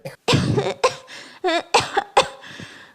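A cartoon kite, voiced by a person, breaks into a run of harsh, close coughs after a sip of pomegranate juice, several raspy bursts separated by short wheezy gasps.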